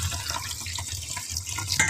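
Snails being rinsed under a running tap in a kitchen sink, giving a steady close hiss of flowing water with small splashes and no talk.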